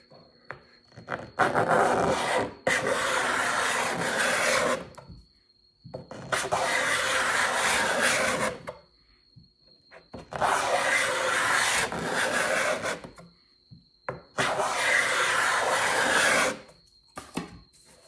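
A hardware store cabinet scraper, set in a long piece of wood, scrapes across a piece of oak in four long, rasping strokes, each lasting about two to three seconds and separated by short pauses, close and fairly loud.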